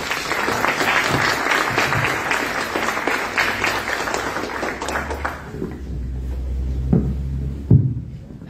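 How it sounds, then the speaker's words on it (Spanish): Audience at a foundation event applauding as its president comes forward, dense clapping for about five seconds that thins out, followed by a few thumps and knocks close by. "Un aplauso."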